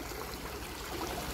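A tubewell pours water into a farm field, a steady close rush and trickle of flowing water with no other sounds.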